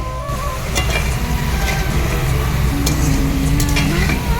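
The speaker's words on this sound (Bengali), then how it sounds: "আলুটা দেখো লাল লাল করে ভাজা হচ্ছে" Potatoes fry in hot oil in a karahi over a clay stove, a steady sizzle with occasional stirring clatter, loud and close throughout.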